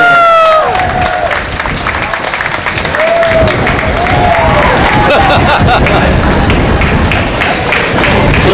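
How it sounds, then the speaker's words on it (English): Staff event in Australia as a crowd bursts into loud, sustained applause with cheering and whoops from guest services front office staff, steady dense clapping filling the space throughout. "let's give these girls a massive round of applause"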